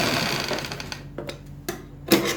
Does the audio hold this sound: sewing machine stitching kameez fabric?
yes